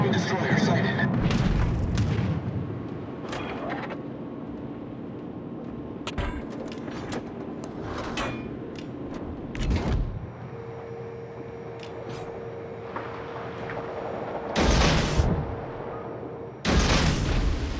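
The Mahan destroyer's guns fire in a World of Warships naval battle, heavy booms spaced several seconds apart under an ongoing rumble of combat, with a synthetic voice announcing between the shots.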